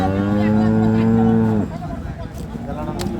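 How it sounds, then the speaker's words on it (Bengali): A dairy cow at a rural cattle market in Dinajpur gives one long, loud, close moo lasting about a second and a half, followed by low market background noise. "রহিম ভাইকে গরুটি দেখছেন"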